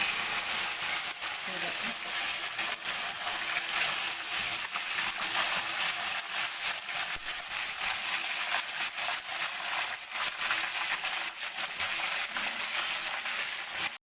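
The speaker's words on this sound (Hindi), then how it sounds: "ऑयल गरम है हमारा, तो गरम ऑयल में डालिएगा।" A whole fish fries in hot oil with a dense, constant sizzle and crackle that holds steady close up the whole time.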